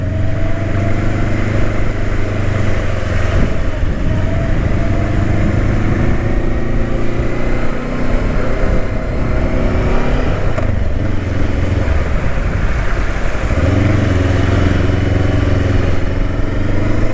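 Traffic rolls along the flooded MacArthur Highway as a sports bike motorcycle rides through, with a continuous loud engine drone, shifting low rumble and passing vehicles blending together throughout.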